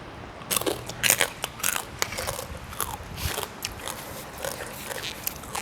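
Hard, crispy pork rinds crunch as someone bites into them, giving a string of close, sharp cracking bites over a quiet background.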